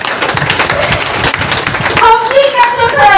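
Audience at a community meeting in a village settlement clapping loudly and close, with thumps and a voice mixed in, and people talking over the claps toward the end.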